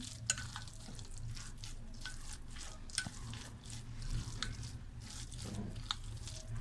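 A spoon mixes finely mashed boiled egg into a soft sandwich filling, making quiet, wet squishing and stirring sounds close by, with a few light clicks against the bowl.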